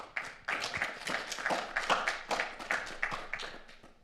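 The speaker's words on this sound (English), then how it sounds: "warm applause for Alice" A handful of people clap for a presenter at an IoT and cybersecurity conference, the sparse, uneven hand claps sounding close and fairly quiet over a few seconds.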